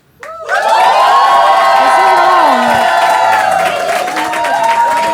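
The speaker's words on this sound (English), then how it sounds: "Now just applaud for this team because you all have already applauded for this team." An audience at a show-your-wealth versus hide-it debate bursts into loud cheering, whooping and applause after a brief quiet start, sustained and close with shouts over the clapping.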